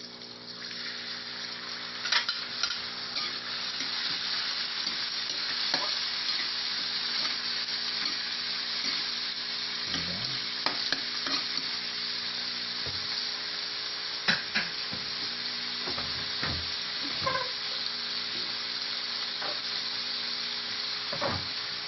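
Tomatoes and green onions sauté in a hot pan for a tofu and sweet potato leaf dish, giving a steady loud sizzle throughout with scattered scrapes and stirring clatters, no voices.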